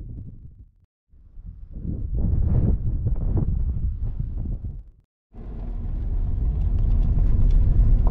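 Car rolling along a road south of San Felipe on Highway 5, a continuous low rumble of tires and wind with brief dropouts, loud and close inside the cabin.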